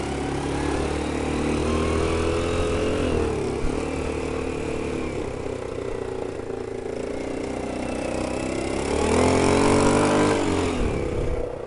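Linhai Navigator quad engine droning steadily while driving in low gear, with a rising rev around the middle and a louder surge near the end, fairly close and continuous.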